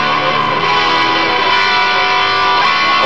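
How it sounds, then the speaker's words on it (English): A dense, sustained distorted electric guitar chord through a Kemper Profiling Amp on a vintage distortion tone, dark and saturated, holding steady at high volume. "vintage distortion type."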